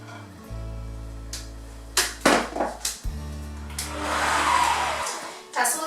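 An electric mixer whips butter with icing sugar, producing a steady close motor whir with short bumps and knocks in the middle as the beaters move through the bowl.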